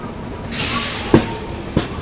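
The Lucknow Shatabdi Express, hauled by a decorated WAP-7 electric locomotive, rushes past with a loud roar of wheels and two sharp rail clacks, close by.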